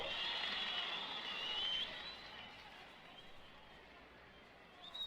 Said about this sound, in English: Don Newcomb getting a fine hand from the crowd